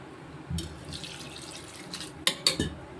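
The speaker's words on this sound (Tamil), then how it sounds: "இன்னும் கொஞ்சம் தண்ணி ஊற்றிக்கிடுவோம்" Water poured from a vessel into a pan of soya chunk kurma with ground cashew and coconut paste, a short splashing run followed by a few brief bursts of pouring, close by with no talk.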